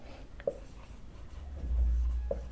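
A pen writes out a math solution on paper: faint, steady scratching strokes with a couple of sharp taps, over a low background hum and no talking.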